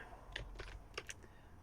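Several quick keystrokes on a computer keyboard make a short burst of key-combination clicks, close and crisp over a quiet background.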